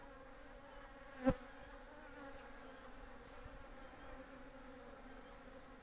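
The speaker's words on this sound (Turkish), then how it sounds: "bu ayda Böyle arı sesleri insana huzur veriyor" A steady, low insect drone of bees in winter hums throughout, with one brief sharp knock partway through.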